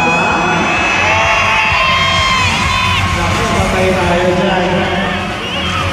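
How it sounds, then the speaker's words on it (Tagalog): A large crowd at a celebrity appearance, loud continuous shouting and cheering that fills the whole stretch, dense and close with whoops rising above the roar. "Ang daming sumigaw."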